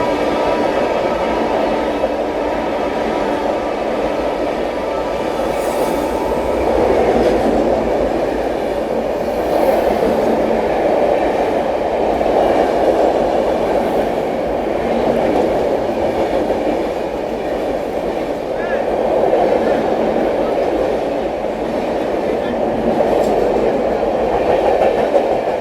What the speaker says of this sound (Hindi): ये थी डिब्रूगढ़ नई दिल्ली राजधानी एक्सप्रेस, अच्छी रफ्तार में गई।